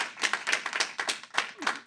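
An audience at a state Senate county and municipal government committee hearing claps in a short burst of fairly close, uneven hand claps lasting about two seconds.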